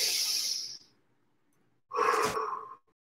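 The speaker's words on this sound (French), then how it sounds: "Allez, même chose, mes 3 respirations." Deep breaths during a muscle-strengthening workout: a long audible exhale, a pause of near silence, then a strong noisy breath, both close and loud with no talking.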